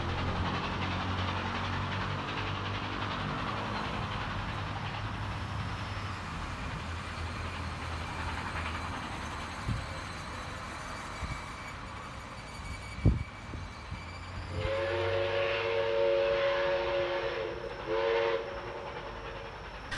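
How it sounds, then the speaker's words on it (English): A locomotive travels through Carlton station toward Hurstville with a steady low rumble of rail noise, a couple of sharp knocks, and a loud multi-tone train horn sounding near the end. "Here we see the locomotive coming from Cogra, heading through Carlton as it makes its way to Hurstville"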